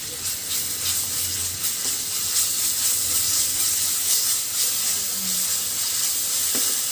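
Garlic paste sizzles in a hot pan, a continuous close hiss with faint scraping, no voices.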